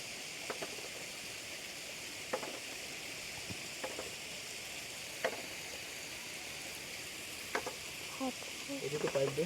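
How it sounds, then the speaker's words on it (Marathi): Raw cashew nuts are roasted the traditional village way over an open fire. A faint, continuous crackling hiss fills the clip, with occasional soft pops and ticks and a slightly busier patch of crackles near the end. "जे आता कच्चे आहेत ते आपण पुन्हा एकदा भाजून घेणार आहोत"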